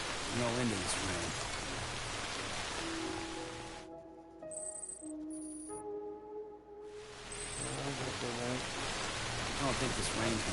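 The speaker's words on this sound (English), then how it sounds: "I don't think this rain's gonna stop." Heavy rain in the video game Death Stranding pours as a dense, loud hiss, drops away for a few seconds to soft tonal game chimes, then returns just as strong.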